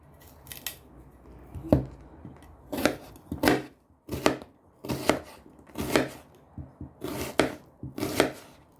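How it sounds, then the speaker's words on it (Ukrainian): Close, crisp knife strokes cut onion into half-rings on a cutting board, about a dozen firm cuts in a steady, unhurried rhythm with brief gaps. "В першу чергу я накришу півкільцями наріжу цибулю і поставлю її смажитися."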